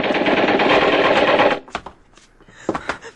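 Sustained rapid-fire gunfire sound effect in a 1954 radio drama adaptation of The Day the Earth Stood Still, a loud dense burst for about a second and a half, then a few sharp scattered pops and clatters.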